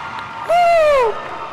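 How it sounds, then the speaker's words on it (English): At a 2018 high school graduation ceremony, one loud rising-then-falling cheering whoop rings out over a bed of crowd applause, brief and close. "Can we get one more round of applause, please?"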